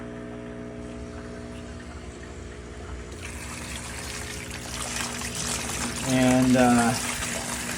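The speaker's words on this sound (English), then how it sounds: "I'm just going to be removing a quarter of the water out of here, which is 10 gallons out of the 50-gallon tank." Water poured and drained out of a 50-gallon indoor plant tank, a steady trickling stream that grows louder and fuller toward the end, over a constant background hum with a brief spoken word.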